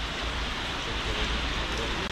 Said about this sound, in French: on est un petit peu bloqué sous la pluie